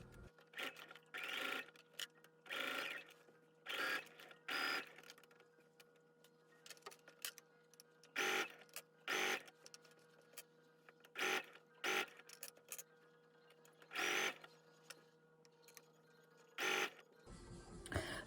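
Sewing machine stitching a dress neckline at stitch length 3, working in short repeated bursts of rapid mechanical whirring separated by quiet pauses, close and clear with no talking.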